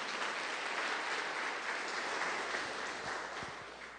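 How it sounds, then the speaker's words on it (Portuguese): A church congregation at a Sunday service breaks into dense, sustained applause, loud and steady throughout before easing slightly at the end. "Dê uma forte salva de palmas para o Senhor Jesus."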